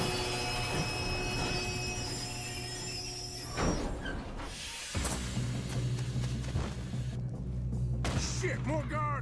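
A moving train in the video game Red Dead Redemption 2 rumbles and clatters loudly, with a thud and a sharp metallic screech near the end, while voices talk over it.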